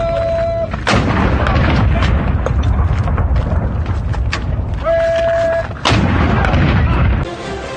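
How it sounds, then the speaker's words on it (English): Ceremonial cannons fire a 21-gun salute, with heavy booms spaced several seconds apart and each blast rolling into a long, loud rumble, and no one speaks. "Cannons firing at 9-second intervals."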